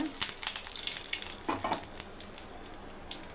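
Mustard seeds and curry leaves sizzle in hot oil along with dried red chillies, cooking for a papaya and green gram thoran, a steady close crackle with scattered sharp pops.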